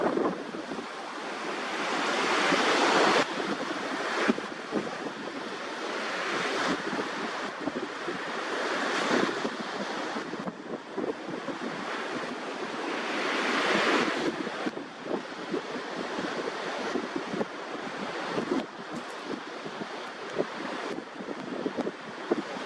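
Ocean surf on a sandy beach breaks and washes ashore in repeated swells while steady wind buffets the microphone, with no voices present.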